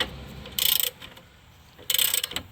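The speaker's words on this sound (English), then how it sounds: "extended ratchet's going to take care of this, no problem" An extended ratchet clicks rapidly in two quick bursts, close and crisp, as it loosens a bolt on the damaged rear suspension of a Ford Escape, with a quiet pause between the strokes.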